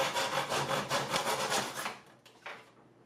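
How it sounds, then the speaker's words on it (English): Short rasping saw strokes cut through a 3/8 inch oak dowel, a quick steady rhythm of close wooden rubbing that stops abruptly, followed by a faint clack. "cut a short piece of 3/8 inch oak dowel"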